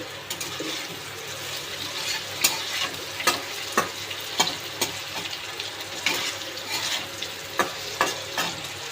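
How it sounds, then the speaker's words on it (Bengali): Steady sizzling of food frying in a pan, with regular scraping and stirring clinks from a utensil every second or so. "এবার আমি আলুটা ভেজে নিচ্ছি"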